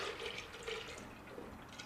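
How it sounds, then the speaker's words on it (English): Melted butter is poured fast into a butter machine, a faint, steady liquid trickle and splash with small gurgles lasting a couple of seconds, with no talking. "Okay, and I just spilled some butter. There we go. I'm going to Just pour fast."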